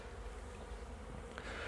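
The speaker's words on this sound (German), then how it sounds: "dann schüttle ich mal da unten wieder die Bienen durch" Honey bees at a beehive give off a steady, close, dense buzzing drone that holds without a break and has no voices over it.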